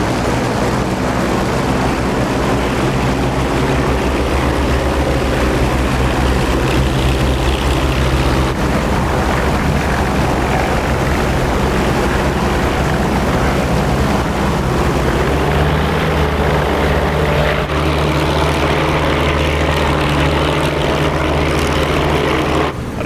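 Several Spitfire propeller engines drone steadily and loudly throughout, a close formation flight in the DCS combat flight simulator over a snowy Kola 1943 map, with no talking.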